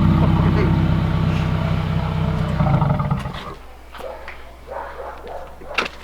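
A 2018 Subaru WRX fitted with a Mishimoto performance intake revs loudly and steadily with a deep, growling drone for about three seconds, then drops to a low idle under some faint background noise.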